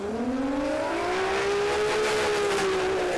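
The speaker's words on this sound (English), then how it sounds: "Barra-powered Fox body Mustang." Barra-powered Fox body Mustang drag car at a dragway, its engine revving hard with a rising, sustained high whine, loud and close, alone without talk.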